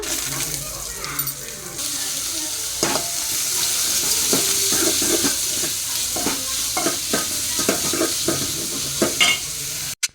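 Onions, with fennel, cinnamon and fenugreek, fry in a pan while a spoon stirs them, producing a steady sizzle broken by repeated clattering scrapes and knocks. A sharp bump ends it.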